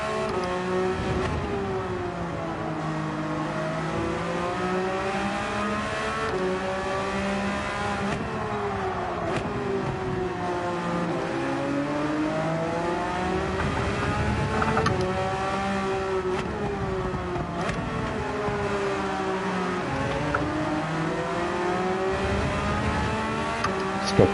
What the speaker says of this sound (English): So downshift and kind of roll through first gear here.